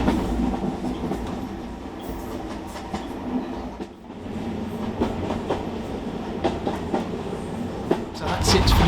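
A heritage train runs along the Gloucestershire Warwickshire Steam Railway with a steady rumbling roll and rhythmic clatter of wheels over rail joints, moderately close and continuous throughout.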